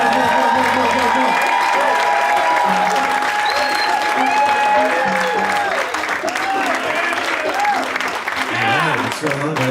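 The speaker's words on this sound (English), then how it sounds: "Please clap loud for Mr. Thor Lauren." Sustained audience applause and some cheering at a comedy showcase in Kearney Mesa as a comedian is brought on stage, steady clapping filling the whole stretch with a voice talking over it.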